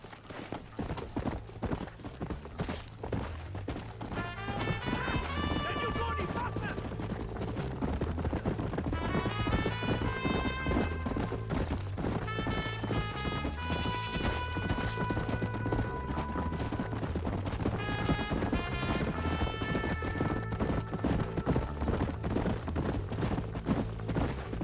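Horses gallop in the western video game Red Dead Redemption, steady rhythmic hoofbeats pounding throughout under a swelling orchestral score.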